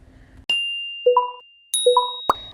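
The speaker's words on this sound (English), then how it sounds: "A chorus of blips and chimes echo around us in an unexpected wave." Phone notification chimes going off in a classroom crowd of students: a short run of bright, clean electronic dings and two-note blips, spaced apart against near silence, crisp and close.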